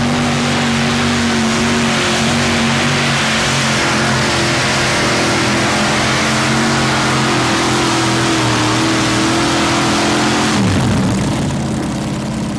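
A 1987 modified pulling tractor's heavy engine roars loudly and steadily at a Fort Wayne, Indiana pull, its pitch dropping sharply near the end as it bogs down.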